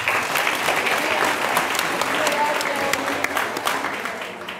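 An audience applauds students at an eighth grade completion ceremony, with steady, dense clapping from a crowd and a few sharper claps standing out as it slowly tapers off.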